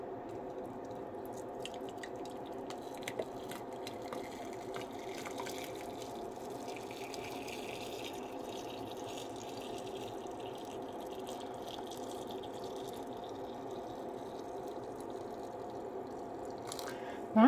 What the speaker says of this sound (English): I'm going to go ahead and add the water to this